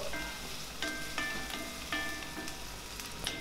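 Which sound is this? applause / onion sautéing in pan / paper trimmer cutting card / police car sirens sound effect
onion sautéing in pan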